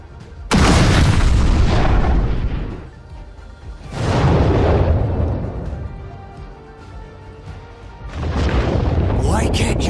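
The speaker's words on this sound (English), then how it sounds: "Plasma cannon!" Energy blasts and explosions from a plasma cannon attack in a My Hero Academia: All's Justice cutscene, three loud booming bursts spread across the stretch, each rolling away before the next, with voices talking over them.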